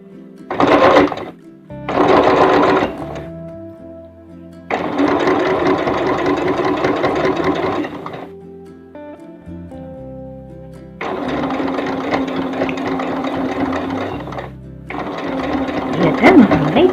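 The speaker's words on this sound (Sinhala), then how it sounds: "මහලා නැවතත් අපි මහගෙන යමු අයින දිගේ." Sewing machine stitching a washable cloth diaper for a 3-6 month baby, running in loud close bursts of steady whirring stitches separated by short pauses.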